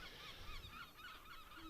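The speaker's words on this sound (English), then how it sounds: "We had a few seagulls flying past." Seagulls calling as they fly past a cricket ground during a Royal London Cup match, a few faint honking cries rising over steady outdoor background noise.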